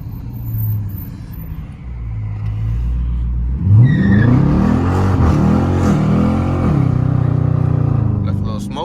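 A Hellcat car engine idles with a low rumble, then revs hard and accelerates with rising, roaring sweeps, loud and close inside the car, while someone talks over the first part.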